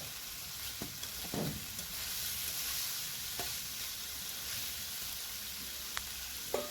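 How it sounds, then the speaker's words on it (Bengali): Banana flower curry with masoor lentils being stirred in a pan, faint sizzling with a few scattered scrapes and taps from the spoon, quiet and with no voices. "এবারে সব কিছু ভালো করে আরও নাড়াচাড়া করে নেব।"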